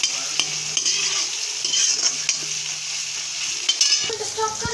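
Biryani masala mixture being stirred in a pan, a steady close scraping and stirring over a continuous frying sizzle, with a few sharper clinks of the spoon against the pan.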